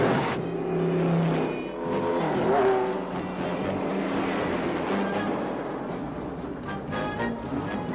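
A car engine revs and accelerates with a rising whine, loud and close, then settles into a sustained mechanical drone amid chase-scene sounds, without speech.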